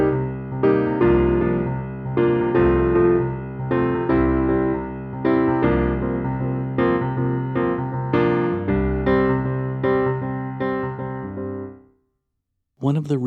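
Solo piano plays the second passage of a song, steady chords with a light syncopation, close and clear for about twelve seconds before ringing off into silence.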